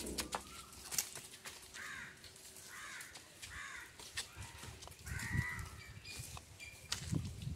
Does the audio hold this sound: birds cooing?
yes